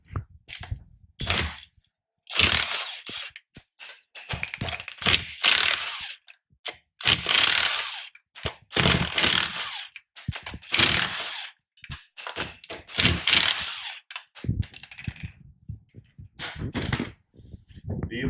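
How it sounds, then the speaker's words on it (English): A Mac Tools 1/2-inch 20-volt impact wrench with chrome socket and extension rattles off lug nuts from a 2000 Nissan Frontier in a home garage, in several loud hammering bursts separated by pauses, with someone talking between them. "brought my 1/2-inch Mac Tools 20-volt impact home"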